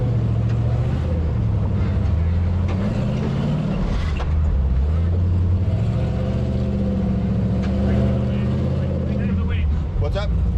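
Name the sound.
off-road vehicle engine pulling another vehicle up a hill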